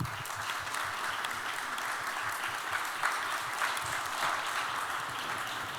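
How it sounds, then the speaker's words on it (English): Steady, sustained applause from a large audience at a youth climate town hall meeting in Seoul, a continuous even roar of clapping that holds at the same level throughout. "please give another big round of applause"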